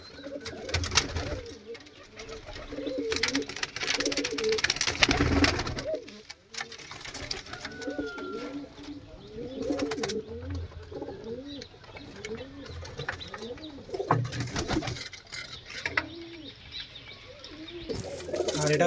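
Kaldom pigeons coo in a repeated series of soft, rising-and-falling calls, close by and regular, with occasional wing flutters and bursts of background noise between them.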